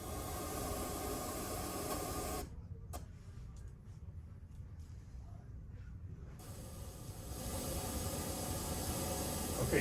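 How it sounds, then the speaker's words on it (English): Pink noise test signal played through hi-fi speakers at an audio show, a broad, even hiss that cuts out for a few seconds midway and then resumes at a similar level. "So let me put on some pink noise."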